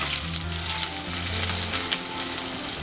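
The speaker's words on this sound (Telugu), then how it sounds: "పచ్చిమిర్చి, కరివేపాకు రెబ్బలు కొంచెం వేగనివ్వాలి." Green chilies, curry leaves, onions and garlic fry in hot oil, giving a steady, close sizzle with no talking.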